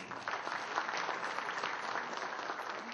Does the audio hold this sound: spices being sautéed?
no